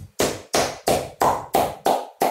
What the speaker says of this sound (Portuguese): Estamos batendo palmas para você.